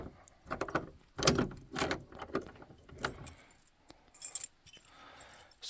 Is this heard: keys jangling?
yes